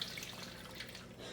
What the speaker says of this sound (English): Of course, I ran the hot water.